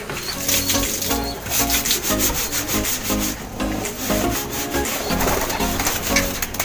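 Thick pigeon droppings being scraped off a loft floor: steady rhythmic rasping scrapes close by, with pigeons cooing in the background.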